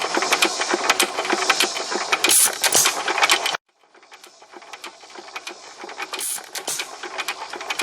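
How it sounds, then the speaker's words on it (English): A small hit-and-miss engine runs with rapid, irregular mechanical ticking and firing, cuts off abruptly for a moment, then resumes more quietly with uneven pulses. "And we're going to run this engine on it."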